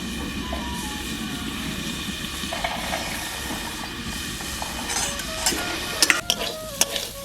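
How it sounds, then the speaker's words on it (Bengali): Potatoes fry in a wok, a steady close sizzle with stirring, ending in a few sharp scrapes and clinks of the spatula against the pan. "একটু ভালোভাবে নাড়াচাড়া করে নেব"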